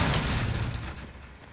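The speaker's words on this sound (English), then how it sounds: "Stun grenade out." A stun grenade goes off in the Call of Duty Warzone video game: one heavy, dull boom that hits at once and fades away over about a second and a half, with no talk over it.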